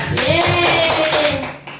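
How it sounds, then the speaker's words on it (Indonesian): A small group of adults at a teachers' sharing session gives a quick burst of hand clapping, brief and close, with a voice talking over it. "Tepuk tangan buat Pak Al."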